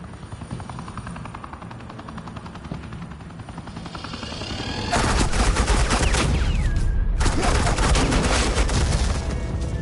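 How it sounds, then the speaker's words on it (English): Suppressing fire in Batman: The Enemy Within, a sustained loud stream of rapid automatic gunfire that cuts in midway over a helicopter's steady rotor drone, pausing briefly before resuming. "Suppressing fire."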